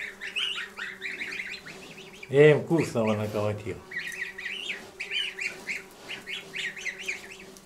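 Mixed-breed geese honk and cackle in a short burst amid a flock's chatter, with someone speaking over the birds nearby.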